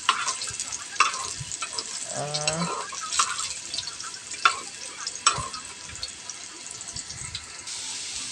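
Teasel gourd (kakrol) slices frying in a pan in a home kitchen, a soft continuous sizzle broken by several sharp clinks of a spatula stirring, with a brief bit of talk over it.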